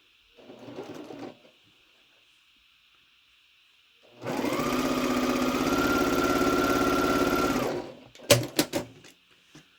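A sewing machine stitches pieces of a star quilt block in one steady, fast-whirring run of about four seconds. It follows a brief faint rustle and ends with a few sharp clicks as it stops.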